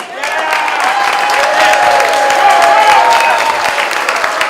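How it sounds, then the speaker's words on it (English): A rally crowd gives Eric Trump another round of applause, loud sustained clapping mixed with cheers that fills the space and swells slightly before easing off. "Let's have another round of applause for Eric Trump."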